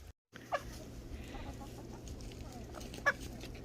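Backyard hens cluck softly while pecking at scraps from a cleaned-out icebox, with a couple of brief, sharper clucks standing out over a steady low outdoor rumble and faint scratching.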